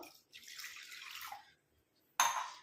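Water poured into an iron pan, a soft, hissing pour lasting about a second, then a brief louder splash near the end, heard alone at low level.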